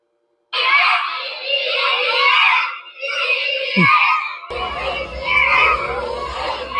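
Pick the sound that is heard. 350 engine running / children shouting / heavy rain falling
children shouting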